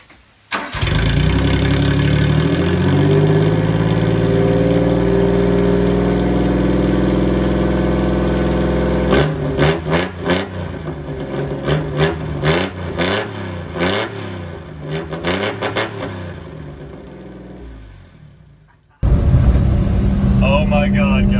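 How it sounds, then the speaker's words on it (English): Honda Acty kei truck with a loud aftermarket exhaust starts and idles, then revs in a series of sharp bursts before dropping back, close and loud, with a voice briefly heard. "we just got the exhaust back on and it sounds fantastic"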